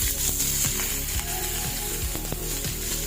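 Chopped onion, green chili and curry leaves sautéing in hot oil for beetroot pachadi, a dense continuous sizzle with a few faint stirring clicks.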